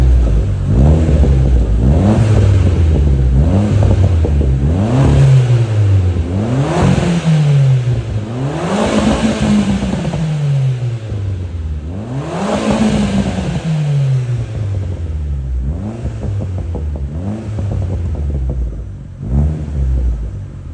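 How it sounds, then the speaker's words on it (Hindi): A Fiat Grande Punto Abarth with a swapped engine revs repeatedly, loud and close, in a series of rising and falling throttle blips that rumble and whir for about twenty seconds with no talking. "Now just listen to my car how it sounds."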